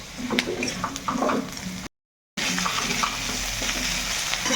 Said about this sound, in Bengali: পেঁয়াজ আর আলুটা বেশ ভালো করে ভাজা ভাজা করে নিয়েছি